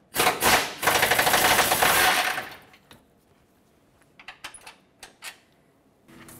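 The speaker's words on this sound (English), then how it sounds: "Let's get this top one out of here. Once again, 10mm socket." A 10mm socket on a ratchet wrench removing a bumper bracket bolt on a 2009-2014 Ford F-150: a loud burst of rapid metallic ratcheting up close, then a few scattered lighter clicks and taps as the bolt comes free.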